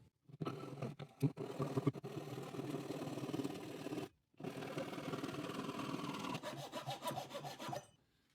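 A Butterfly Japanese pull saw cuts through plywood in steady rasping strokes, running in one long sawing stretch, a brief pause, then a second run of rhythmic back-and-forth strokes, close and clear with no talking.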